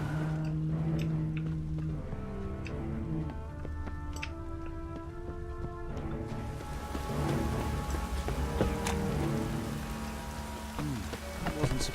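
Rain falling in The Witcher 3: Wild Hunt, a steady hiss of rainfall with musical score and game effects layered over it, continuous throughout.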